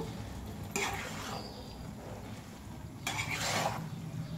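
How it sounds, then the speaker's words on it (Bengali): Maggi noodles with egg and vegetables stirred in a pan, a utensil scraping and clinking against the metal in two short bursts over a faint background hiss. "এরম ভাবে নাড়িয়ে নেব"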